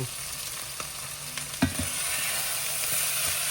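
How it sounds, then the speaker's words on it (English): Cooked rice is stirred into vegetables frying in a pan, a steady close sizzle broken by a few scraping, knocking stirs. "I'm going to start mixing in some rice. I had some rice already cooked that I used. And we're just going to mix it just like so."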